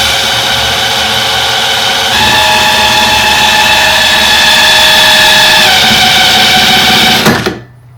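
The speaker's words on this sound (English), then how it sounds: "I've got a big impact driver in drill mode, and I'll just start turning over the alternator" A big impact driver set to drill mode spins a Delica L400 V6 alternator, giving a steady loud mechanical whir with a rising pitch after about two seconds, then cutting out abruptly near the end.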